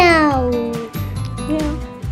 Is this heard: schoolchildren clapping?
no